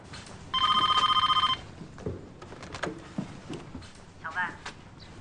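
Telephone ringing during a tense office call, a loud electronic ring burst lasting about a second, followed by faint room noises, clicks and movement.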